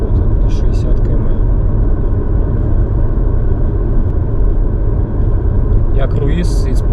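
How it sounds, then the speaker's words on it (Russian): A Subaru Forester turbo crossing a bridge at steady cruise-control speed, giving a continuous loud in-cabin rumble of engine and road noise throughout, with a faint brief rattle near the end. "Пока катимся по мосту на круизе."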